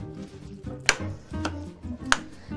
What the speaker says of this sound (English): So we're done mixing our breadcrumbs, cream cheese,